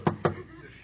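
Two sharp knocks on a door, close and fairly loud, in quick succession, followed by quiet room tone.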